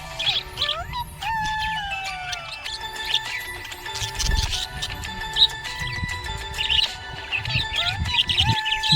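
A budgie chirps and tweets in quick, busy bursts of bright, high calls, fairly close, over a low rumbling background.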